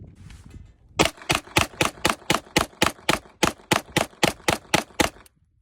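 A rapid string of roughly seventeen pistol shots from an OA Defense 2311 full-size handgun. The sharp, loud, evenly spaced cracks are fired close by, then stop abruptly. There is no speech.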